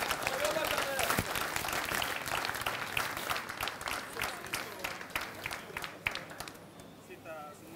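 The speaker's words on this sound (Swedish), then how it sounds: "En stor applåd för Daniel och hans mat." Audience applause at a chef cooking competition semifinal in Jönköping, a steady wash of clapping that thins toward the end, with speech heard over it.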